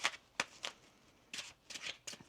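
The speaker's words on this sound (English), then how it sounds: "One more shuffle here." A deck of tarot cards being shuffled in quick riffling bursts, several separate flurries of crisp paper flutter with short pauses between, close and fairly quiet.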